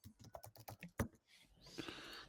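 Computer keyboard keys typed in a quick, uneven run of close, crisp clicks for about a second, followed by a softer shuffling noise and a couple of faint taps.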